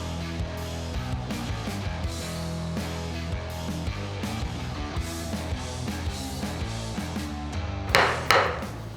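Chisel cutting a wooden scarf joint in a timber frame beam, a busy run of sharp knocks and wood-cutting strikes under a steady humming background, ending in two louder bursts.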